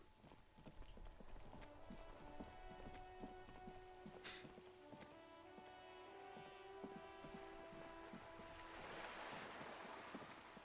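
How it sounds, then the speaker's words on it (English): Rain falling in Revachol in the video game Disco Elysium, a soft, steady patter of drops on surfaces under faint sustained musical tones, quiet and continuous throughout. "Raining today in Revachol."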